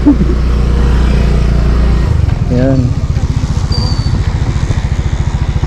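A Yamaha Mio Gear motorcycle engine runs close by with a steady low rumble that turns into an even, rapid pulsing chug, while people talk over it.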